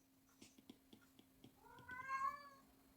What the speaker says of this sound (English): Sorry about my cat, by the way.